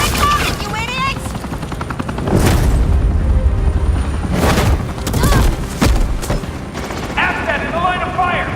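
Gunfire from police in the Batman video game, loud bursts and booming shots over a steady helicopter-like drone, with game voices and effects layered in.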